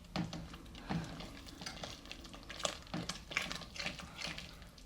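Spice masala is stirred and sautéed in a pan for an orange masala chicken, a soft continuous sizzle with repeated scraping spoon strokes at a loose rhythm, close and quiet, with no talking.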